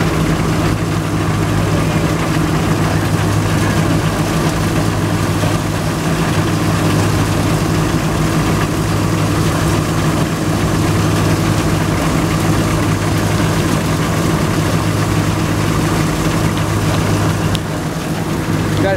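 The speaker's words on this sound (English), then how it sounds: "grain getting separated from the straw here" An antique threshing machine at an antique power show separates grain from straw, giving a loud, steady mechanical drone with low engine throb and constant rattling vibration throughout, with no pauses.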